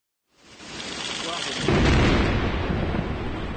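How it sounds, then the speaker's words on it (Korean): Explosives demolish a bridge under construction in a Colombian mountain valley. A deep, rumbling boom rises and swells, then rolls on as a long, heavy roar of collapse. "강한 폭발음과 함께 계곡 286m 높이에서 건설 중인 교량이 무너져 내립니다."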